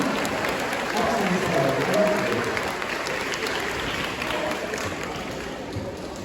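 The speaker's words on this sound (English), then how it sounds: "But do give them both a big round of applause." Outdoor audience applauding at a sea lion show at a safari park, a dense steady wash of clapping lasting several seconds with faint voices mixed in.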